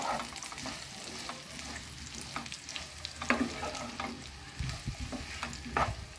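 Pieces of bitter gourd fry crisp in oil in a pan, a soft steady sizzle broken by repeated spatula scrapes and stirring knocks, close and moderately quiet, no speech.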